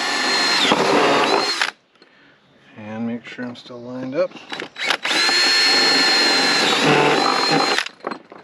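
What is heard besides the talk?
power drill drilling through board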